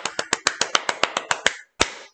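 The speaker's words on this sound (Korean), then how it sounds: "선생님 박수 칠게요." A teacher claps hands alone in a quick steady run of about eleven sharp, close claps, then a brief pause and one final clap.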